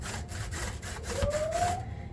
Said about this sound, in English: And I'm just going to grate it.